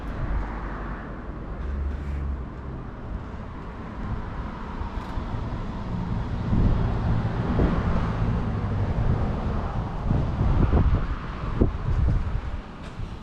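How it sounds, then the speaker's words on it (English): Cars passing along a waterfront street near old ship anchors at Port Adelaide, heard as a low rumbling traffic swell that builds and fades in the distance under gusty wind noise. "As you can hear, there's a few cars going about."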